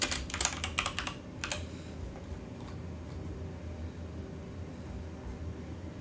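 Fingers type on a computer keyboard during an Unreal Engine tutorial, a quick burst of close, light clicking keystrokes followed by a quiet background hum.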